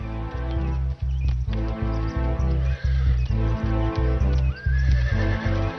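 Wild stallions fighting: loud, close neighs and whinnies repeat in bursts over rapid thudding hoofbeats and scuffling, with no voices.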